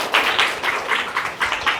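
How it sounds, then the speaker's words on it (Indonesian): Scattered clapping from a small audience at a library storytelling session, quick rhythmic bursts of hands close by for under two seconds. "Tepuk tangan dong buat Boynya"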